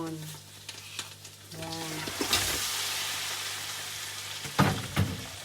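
Shrimp drops into a pan of butter and garlic and bursts into loud, close sizzling and spattering, with stirring clatter and a brief spoken word over the frying.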